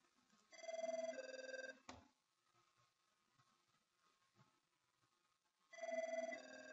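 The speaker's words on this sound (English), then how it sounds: "The voicemail system calls you. Pick up the phone." An Avaya IP Office phone rings twice as the voicemail system calls back, each burst a bright electronic trill lasting about a second, separated by a long quiet gap with faint room noise.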